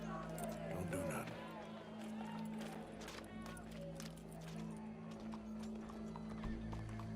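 Horse hooves clip-clop in a video game, joined by a whinny, all sitting under a steady musical drone and busy background sound for several seconds.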